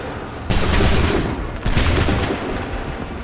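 A musket volley in Assassin's Creed III erupts as a loud, dense burst of many overlapping shots, followed by a second ragged volley a second later, both trailing off into rumbling noise.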